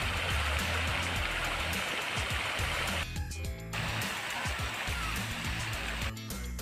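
Splashing water from a fountain in a New Zealand park playground area, a steady broadband rush that runs throughout, with brief dips and faint background voices.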